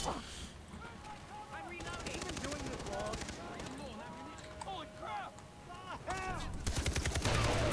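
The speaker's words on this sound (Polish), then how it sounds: "strzelam w beczkę, nie chcę się wybuchnąć" Gunfire in the video game Far Cry 3 aimed at an explosive barrel: a run of sharp, close shots mixed with game effects under steady talk, with louder bursts near the end.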